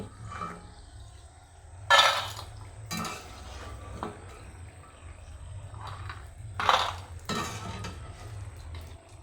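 Flattened-rice Kurkure snacks are lifted out of hot frying oil with a spoon, giving two sharp scraping clatters against the pan over a steady low kitchen hum, with quiet stretches in between.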